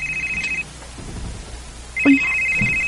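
A mobile phone ringtone rings in repeated electronic tone bursts, one before a short pause and a louder one after, fairly close with no talk over it.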